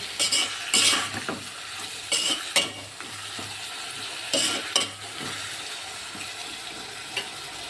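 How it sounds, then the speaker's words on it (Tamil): Tomatoes sautéing with salt in a pan, a soft continuous sizzle broken by several sharp scrapes and clinks as a spoon stirs them. "இது நல்லா மசிய குழைய வேகணும், வதங்கணும்."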